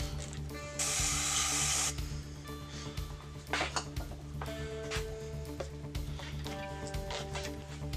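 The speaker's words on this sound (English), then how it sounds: "So I'm doing the old BMX trick, hairspray." Hairspray sprayed onto the handlebars while fitting grips on a Haro BMX bike: one close, hissing burst lasting about a second near the start, with steady background tones and light ticking throughout.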